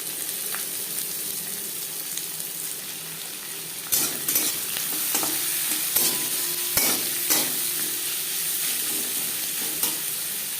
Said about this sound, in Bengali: দিয়ে দেবো পেঁয়াজ কুচি।